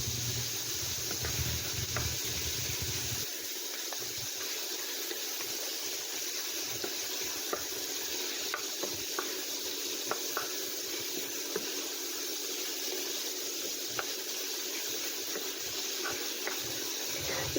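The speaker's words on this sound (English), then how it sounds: "Mix well with meat and stir fry together until kimchi gets golden brown." Kimchi and meat stir-frying together in a pan, a soft continuous hiss with scattered light clicks and scrapes of stirring, quiet and unbroken by speech.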